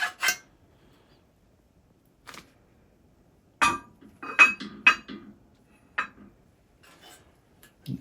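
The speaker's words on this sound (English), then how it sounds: "remove the mandrel from the bent receiver" A bending mandrel is worked out of a bent HK G3 steel receiver, giving sparse, sharp metallic clicks and clinks in a quiet room, with a short cluster of knocks near the middle.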